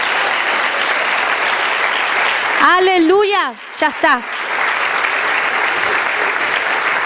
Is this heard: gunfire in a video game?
no